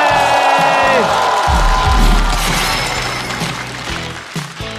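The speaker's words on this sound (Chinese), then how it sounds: "掌声欢迎邱瑞" A live stand-up comedy audience cheers and applauds loudly to welcome comedian Qiu Rui onto the stage, a dense crowd roar swelling near the start and then slowly fading, with music tones over the opening.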